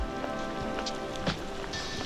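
Rain falling beside a river in Ariège during trout fishing, a steady dense patter of drops on the surface with a constant hiss, close and even throughout.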